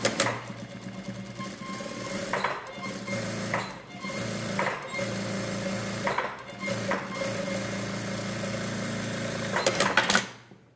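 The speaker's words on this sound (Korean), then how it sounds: "스티치 한번 하겠습니다" A sewing machine stitches a seam on a tailored-collar dress, running as a steady loud close mechanical whir with brief pauses and restarts throughout, and no talk.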